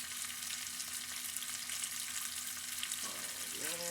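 Turkey noodle soup being stirred in a pot with a spatula gives a steady sizzling, bubbling hiss, close and even throughout, with a brief scrape near the end and no talking.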